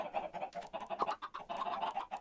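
Chickens in the video game Minecraft cluck in a busy, overlapping stream of short repeated calls, several birds at once, moderately loud and with no talking.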